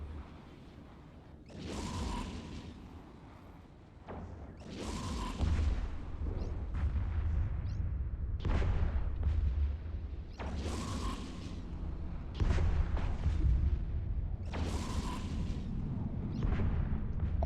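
Repeated explosions and cannon blasts in the space combat game Eve Echoes, a series of loud booms recurring every couple of seconds over a constant low mechanical rumble, with no voices.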